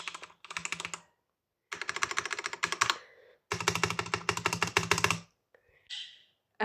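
Someone types in quick bursts on a new RGB mechanical keyboard, producing crisp, clacky keystrokes at close range, with short pauses between runs and no talking.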